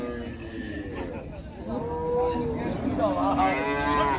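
A cow moos loudly and repeatedly amid a busy outdoor crowd at a dairy cow market in Raniganj, Dinajpur, with people chattering nearby in the background.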